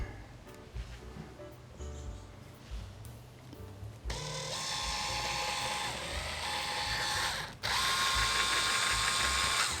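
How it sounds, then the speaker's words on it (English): A power drill bores into the top of a handmade guitar, whirring loudly and steadily, rising in intensity partway through and continuing with a sharp, high-pitched grinding whine. "drill a hole right in the top"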